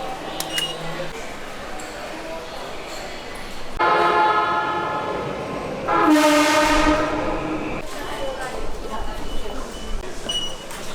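Train pulling into a station in Yokohama, Japan, its rising rumble and tonal brake or horn bands swelling over a busy platform background, with a person talking nearby.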